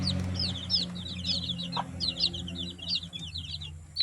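Layer chicks peeping in rapid high chirps throughout, with a low steady hum from the brooder or farm setting underneath.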